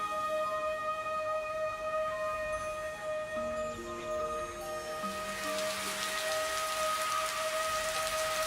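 Steady wet-season rain falls over the flat, low-lying Mekong Delta landscape in Vietnam, a constant soft patter with no voices.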